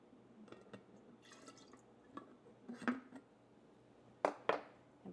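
Kombucha tea poured into a jar at home, quiet liquid drips and splashes in short irregular bursts, with a couple of brighter glassy clinks near the end.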